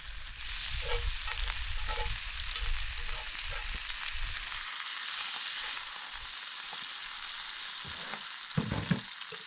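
Bacon and steak with onion fry in a pan at a night campsite, a steady close sizzle with occasional scrapes and stirring clatter, no voices.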